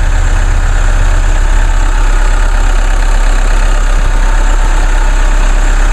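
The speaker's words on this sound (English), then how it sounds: "Sure love the sound of those little 4-cylinder diesel engines." A loud, steady four-cylinder turbo diesel engine of a 2014 Chevrolet Cruze idles close up, with a continuous low rumble and clatter that does not change throughout.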